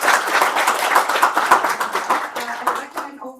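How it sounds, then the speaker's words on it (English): Audience applause after a guest lecture on process science, a steady wash of many hands clapping close and loud for a few seconds before thinning out near the end. "Let's give an applause to."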